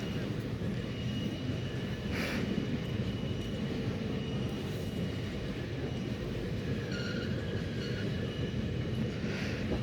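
Chitrakoot Express pulling out of Katni Junction, a continuous low rumble of rolling wheels and carriages with a few faint higher squeals and horn-like tones, steady and fairly distant.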